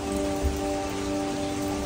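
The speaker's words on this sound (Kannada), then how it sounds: "ಇಲ್ಲಿ ತುಂಬ ಮಳೆ ಬರ್ತಿದೆ" Heavy rain falls steadily on Waiheke Island, New Zealand, a dense, even wash of noise with no voices heard.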